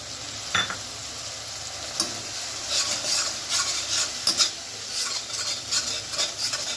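Mustard paste for a Bengali mustard rohu curry sizzles in a pan over a medium flame after a splash of water, a steady hiss broken by scraping stirs and a few sharp crackles.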